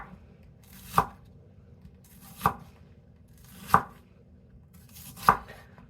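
A knife trims the root end off a vegetable on a cutting board, landing four sharp, evenly spaced chops about every second and a half, close and clear over a low background hum.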